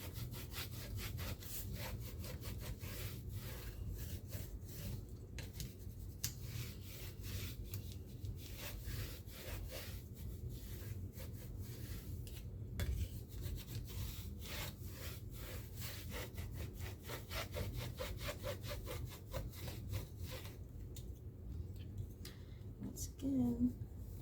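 A tool rubs back and forth over paper to burnish it for a scrapbook recipe binder, giving a steady, faint scraping with quick strokes that run for a long time, and a voice talks quietly now and then.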